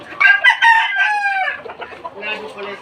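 Gamefowl hens and roosters clucking loudly close by, a long drawn-out crow-like call followed by a busier stretch of overlapping clucks from several birds.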